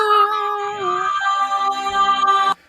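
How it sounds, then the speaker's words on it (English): A screeching, cat-like musical theme plays on a livestream, loud, sustained, wailing tones sliding in pitch over a few seconds before cutting off abruptly. "The screeching cat theme"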